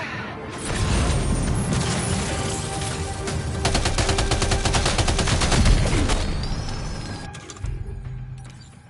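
Sustained automatic gunfire in the video game Death Stranding 2, with rapid, loud bursts running almost continuously for several seconds before easing off into quieter rumbling at the end.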